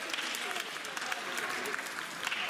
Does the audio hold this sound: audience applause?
yes